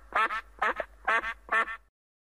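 A duck quacks four times in even, loud pairs of honking calls, then falls silent.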